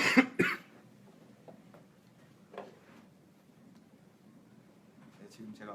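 Two sharp coughs come close together at the start, followed by a quiet stretch with faint ticks and small mouth noises.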